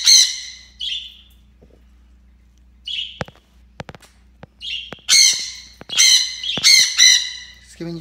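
A pet parrot lets out loud, harsh squawks in several bursts with short gaps, the calls growing more frequent toward the end, mixed with a few sharp clicks and taps.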